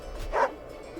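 A single short dog bark from the fantasy strategy game Wargroove, one clear mid-pitched woof rising briefly above quiet background.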